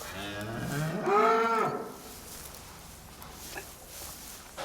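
A cow mooing on a farm gives one loud, drawn-out moo close by, followed by quiet barn ambience with faint rustling.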